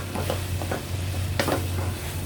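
Kimchi stir-frying in a pan for pork kimchi stew, a steady sizzle with a low hum, broken by a few soft scraping stirs and one sharper scrape near the middle.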